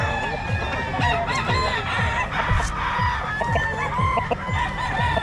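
Chickens cluck busily while a rooster crows, a lively farmyard chorus of several birds, fairly close and steady throughout.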